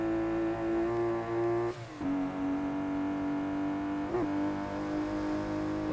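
A BMW E30 engine revs on a mountain road, heard from inside as a strong steady drone that rises in pitch, drops sharply at a gear change, then climbs again, with a second brief shift later.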